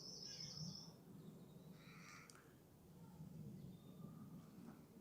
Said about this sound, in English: Birds are very vocal.